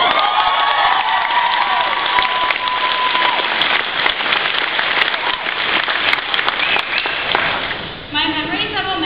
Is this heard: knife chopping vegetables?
no